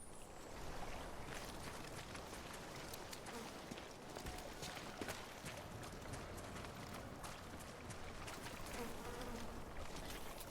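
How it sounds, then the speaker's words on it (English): Flies buzzing around in the Death Stranding video game, a faint, dense droning hum running through the whole stretch with scattered soft clicks and ticks and no clear talk over it. "Can hear like flies buzzing around"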